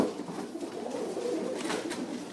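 Soft, low cooing from a tippler pigeon held indoors among other birds, a continuous murmuring burble with faint rustling and no speech.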